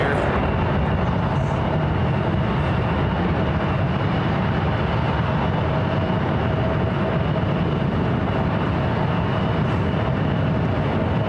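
A passenger jet takes off from SFO on a flight to Shanghai, its engines producing a loud, steady broadband roar with a deep rumble that holds for the whole stretch.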